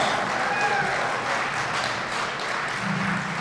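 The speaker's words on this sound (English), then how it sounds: "one more round of applause for our Lieutenant Governor, Mandela Barca." A dinner audience at the Kenosha County Democratic annual dinner applauds, giving a dense, sustained roar of many hands clapping that fills the room evenly from start to finish.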